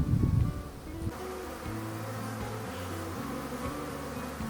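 Honey bees buzz around their hive on the first day of the beekeeping season after winter, the entrance opened in early spring; a dense, steady hum of many bees with single insects droning close past.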